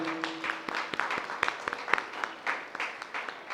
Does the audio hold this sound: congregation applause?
yes